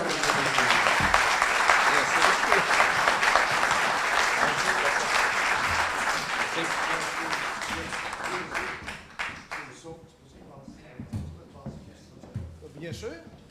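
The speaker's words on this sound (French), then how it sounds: "Alors, on peut l'applaudir" Audience applause at the official launch ceremony for the Château Bellevue project in Pont-Rouge, a dense, steady clapping that fades out after about ten seconds, leaving scattered claps and voices.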